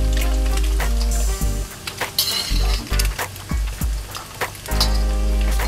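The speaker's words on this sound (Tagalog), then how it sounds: "Next nating ipiprito na yung atay." Liver frying lightly in a pan for Marikina-style menudo, with a steady sizzle broken by clinks and scrapes of a utensil against the pan, close and without talk.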